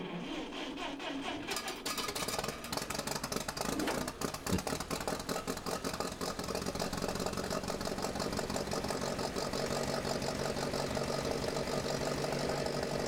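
An old tractor engine idles with a dense, steady mechanical chugging that starts up after a quieter opening and then runs on continuously.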